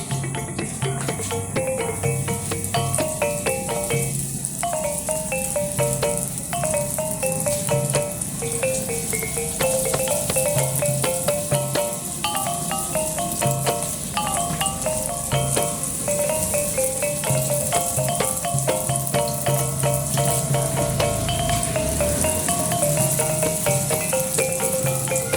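Ring-shaped donut dough fries in hot oil in a wok, giving a continuous crackling sizzle with dense popping bubbles, loud and close, while faint melodic music plays underneath.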